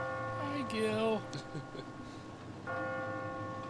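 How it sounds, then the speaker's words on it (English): Church bells chime in a Paris street scene from the film Midnight in Paris, ringing tones that fade and return, with a brief spoken greeting between strikes. "Here's the bells."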